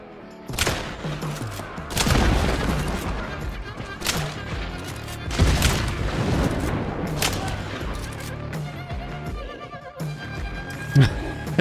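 Rifle gunshots from the Caldwell Marathon in the game Hunt: Showdown, several sharp cracks spaced a second or two apart over dense game ambience, with a voice talking underneath.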